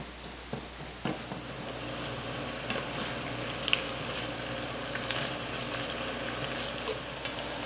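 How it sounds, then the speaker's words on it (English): Ground beef browns in a pan while being broken apart, giving a steady low sizzle throughout with occasional light scraping clicks and taps from a utensil against the pan. "we'll allow this to brown until there's no longer any pink in the"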